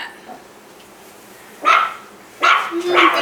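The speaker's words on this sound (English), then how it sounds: "I keep hearing the dog barking, but I can't find her." A dog barks in two short bursts, the second a quick double yip, heard indoors at moderate distance with quiet room tone between.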